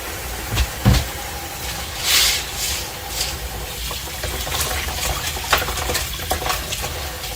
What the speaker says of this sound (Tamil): கொஞ்சம் வார்மான வாட்டர் தான் நான் ஊற்றி வாஷ் பண்ணுறேன் இப்போது